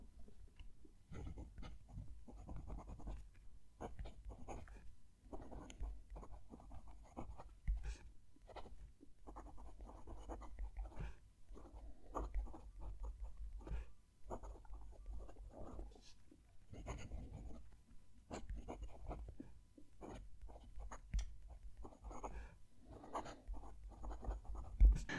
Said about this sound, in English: Let's move the mic down to the page and write a sentence.